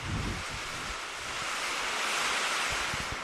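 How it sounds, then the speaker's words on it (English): Heavy rain pouring down at an outdoor softball field, a steady loud broadband hiss filling the air, with gusty wind rumble buffeting the microphone and no voices. "And the rain is absolutely pouring down here"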